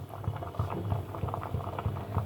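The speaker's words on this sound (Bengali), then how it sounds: "ফুটছে তো, ঠিক বড়া গোল গোল গোল গোল" Batter fritters (bora) cooking in a pot of liquid, giving a quick, close, continuous bubbling and popping patter, steady and fairly soft, with no voices.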